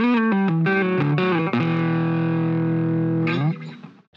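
Heavily distorted electric guitar through a Poison Noises Knuckle Sandwich distortion pedal plays a few quick notes, then holds one long, thick, buzzing note before it cuts off and fades.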